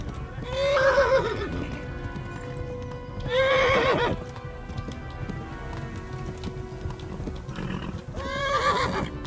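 Hooves clop continuously while a horse gives three loud, shrill neighs at intervals, over a soft rainy background, in the video game Kingdom Come: Deliverance.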